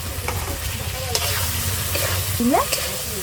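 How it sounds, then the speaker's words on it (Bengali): Spiced masala with fried potatoes sizzles in a pan, a continuous loud frying hiss with stirring scrapes on top, heard up close and without speech. "মশলাটা কষানো হয়ে গেছে এবার আলু ভাজাগুলো দিয়ে দেবো"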